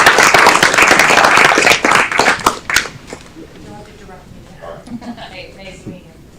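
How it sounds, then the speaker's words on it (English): An audience at a city council meeting applauds loudly for a few seconds, the clapping fading away as scattered voices and movement carry on quietly in the room. "Give her another round of applause."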